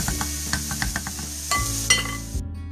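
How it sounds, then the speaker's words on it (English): Vegetables frying in a pan on the stove, a steady soft sizzle with scattered light clinks and stirring scrapes, close and fairly quiet, no voices. "you can see that the vegetables have been cooking for about 5 minutes now"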